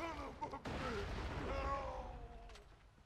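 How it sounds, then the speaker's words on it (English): A grenade blast rings out in the co-op shooter game Borderlands, a sudden boom followed by a decaying rumble, moderately quiet, mixed with game voices and tones. "Uh-oh, grenade behind you!"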